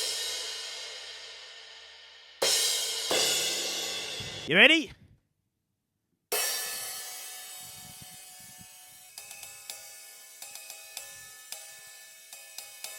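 A century-old, unusually heavy 13-inch riveted cymbal is struck a few times, giving bright washy crashes that ring and decay, then a string of lighter close taps, with brief talk beforehand.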